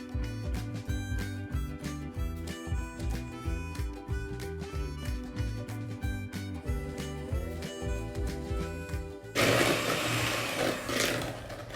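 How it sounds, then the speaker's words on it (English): A hand-held electric mixer runs on its lowest speed, beating an egg into chocolate chip cookie dough, a steady motor whir with a rhythmic pulsing pattern that turns into a louder, rougher churning near the end. "when I mix in the egg, I will always use the mixer on a low speed, so just 1 notch."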